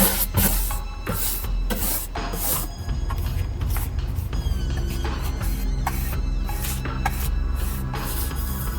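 A brush painting cardboard with leftover brown paint makes a soft, repeated rubbing and scraping in short strokes, close up and fairly steady, with no voices.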